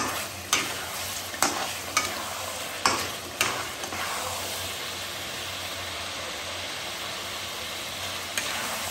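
Mutton kosha sizzles steadily in a pan with garam masala as it is stirred, the utensil scraping and knocking against the pan in several sharp strokes over continuous frying.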